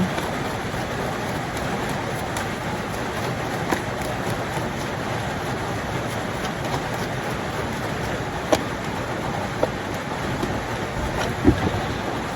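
Rain falling outside during a tarot reading, a constant dense hiss of steady rainfall filling the background, with a few faint clicks and no talk.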